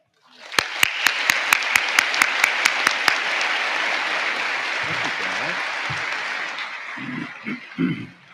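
A commencement audience bursts into loud, sustained applause to welcome the keynote speaker. A few sharp claps come first, then a dense wash of clapping that fades near the end as a voice begins speaking.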